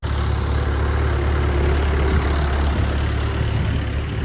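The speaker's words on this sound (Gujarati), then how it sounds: "लेकिन सामने ही ट्रैक्टर आ रहा है" A tractor engine on a narrow village road, a loud, steady low diesel rumble close by throughout, with no talk.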